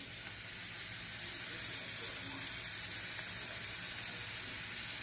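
Garlic sizzles in a hot pan while loaded nachos with two meats and three cheeses are being made, a steady, hissing fry that holds even throughout.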